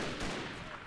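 A musket volley fired by a line of troops in Mount & Blade Warband, a brief dense crackle of several overlapping shots heard at a distance, fairly faint.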